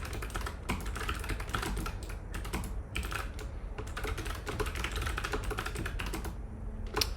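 Someone types on a computer keyboard, rapid bursts of close key clicks broken by short pauses, steady and fairly quiet with no talk over it.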